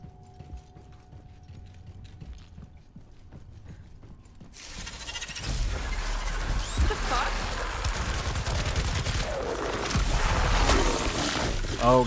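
A submachine gun fires in Daymare: 1994 Sandcastle, breaking a quiet stretch with loud, continuous rapid automatic bursts that run for several seconds and grow denser and heavier toward the end, mixed with mechanical clatter.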